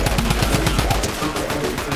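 Rapid automatic gunfire from a multiplayer shooter game, a loud, fast stutter of shots for about a second followed by scattered dense firing and game noise, no talk.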